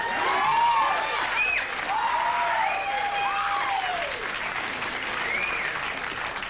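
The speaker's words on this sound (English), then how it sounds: "I think we have some kind of applause club in the crowd tonight" A late-night television studio audience applauds steadily and loudly throughout, a dense wash of clapping with scattered whoops and cheers layered on top.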